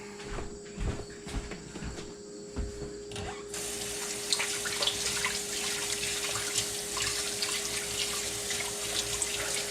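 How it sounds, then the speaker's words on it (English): Tap water runs into a kitchen sink while hands are washed, starting as light splashes and then gushing in a steady, close rush for the rest of the time. "Let me wash my hands again so I can get the cheese opened up."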